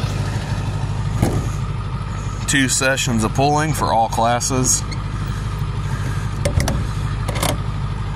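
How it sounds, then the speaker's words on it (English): A pulling truck idles while warming up early in the day, a steady low rumble running throughout with someone talking over it. "I'm gonna let the truck warm up"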